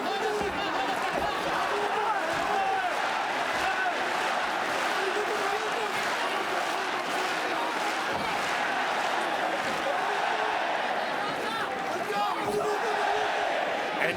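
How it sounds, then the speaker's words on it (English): A loud, continuous roar from a large arena crowd at an MMA bout, steady for the whole stretch with scattered shouts and sharp thuds rising out of the din. "listen to the crowd with Takimoto"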